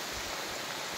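Steady rain falling outdoors on a hillside with water running downhill, a dense continuous hiss of drops close around the listener with no talk.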